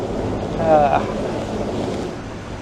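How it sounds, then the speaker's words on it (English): Water sloshes and washes around a boat at sea, with steady wind rushing across the microphone and a brief brighter swell partway through. "I hear the water."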